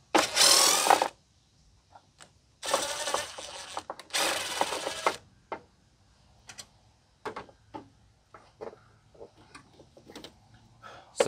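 A 13 mm wrench loosening the battery tie-downs on a Jeep Cherokee XJ, heard as close bursts of quick metallic clicking and ratcheting followed by scattered light taps and clinks in a quiet space.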